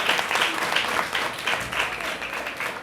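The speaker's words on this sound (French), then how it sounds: "Et on applaudit pour Glorifier." Applause for a student at a school journalism festival certificate ceremony, a short burst of steady, fairly loud clapping from a small crowd.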